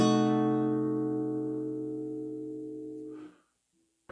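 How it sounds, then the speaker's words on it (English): A diminished chord strummed once on guitar, ringing out and slowly decaying over about three seconds before being cut off, alone and fairly quiet. "And that makes it sound like this."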